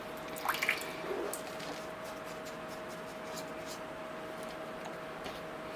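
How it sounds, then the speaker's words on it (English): Water splashes briefly and faintly into a small container used to rinse a paintbrush while working on a bonsai landscape with rocks, then the room goes quiet apart from a steady low hum. "Let me just get some water in my container."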